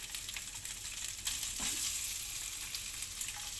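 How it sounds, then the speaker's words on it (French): Octopus pieces fry in olive oil in a hot pan, a steady close hiss of sizzling with a brief stir in the middle, no talking. "On fait revenir comme ça quelques secondes dans de l'huile d'olive"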